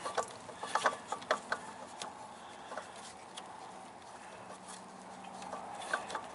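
A clutch pulley is threaded by hand onto the alternator of a 2001 VW Jetta TDI, giving soft, irregular ratcheting clicks and ticks close by against a quiet background.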